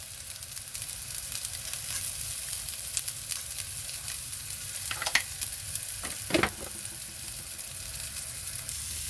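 Onions frying in a pan for a breakfast dish, giving a steady broadband sizzle throughout with a few brief stirring scrapes and clatters near the middle, close and moderately loud with no talking.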